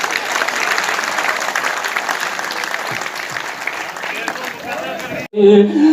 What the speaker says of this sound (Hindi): एक बार और तालियां बजाइए